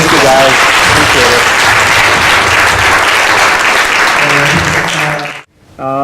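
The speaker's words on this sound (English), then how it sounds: "how about a big round of applause?" A big round of applause from a seated audience at a business panel event, loud dense clapping that holds steady for about five seconds before cutting off abruptly, with a voice briefly audible near the end.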